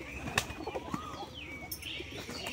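A pigeon flaps its wings close by as it lands on a person's shoulder, with a few quick wingbeats, faint cooing and birdsong in the background.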